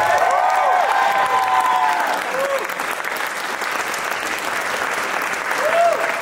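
A festival crowd at a mask festival applauds the bands that played, with sustained loud clapping and scattered whistles and cheers that ease off mid-way, then swell again near the end, with voices mixed in.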